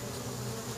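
Honeybees from two newly delivered hives at a prison hum in a steady, dense buzz, loud and close, filling a brief moment without any speech.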